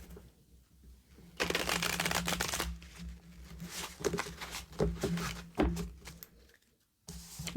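Tarot cards shuffled and handled in bursts of riffling and sliding, close and fairly loud, with quiet pauses before and after and a brief soft drop near the end.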